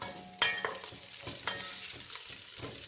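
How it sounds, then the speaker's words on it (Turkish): Butter sizzling in a pan over pre-cooked beef chunks for Turkish tas kebab, with a sharp clatter as it drops in, then steady frying crackle and a few soft stirring scrapes, close and alone. "Şimdi şöyle bir yemek kaşığı tereyağı koyalım"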